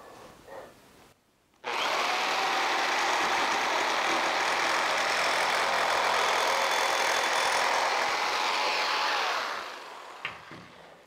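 A power saw blade cuts off the corner of a rat rod door panel in one sustained, loud, close whirring grind of about eight seconds. The blade spins up sharply and then winds down, with brief quiet handling noises before and after.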